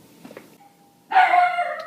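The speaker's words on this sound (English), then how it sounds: "Doorbell, mail must be here." A doorbell rings once in a home, a bright sustained chime sounding loud and near after a faint tone and a quiet pause.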